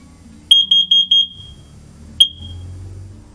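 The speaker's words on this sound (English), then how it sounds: "As well as the smoke alarm" Combination smoke and carbon monoxide alarm inside a camper van, sounding a rapid burst of five or six shrill piercing beeps, then a pause, then a single sharp beep again, close and loud.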